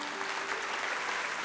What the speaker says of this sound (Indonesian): Kasih tepuk tangan tuh Tuhan.